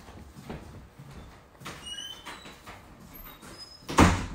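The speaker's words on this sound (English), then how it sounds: "Slam another door." A door slams shut inside a house, one sharp, loud bang near the end after a stretch of faint indoor rustling and distant voices.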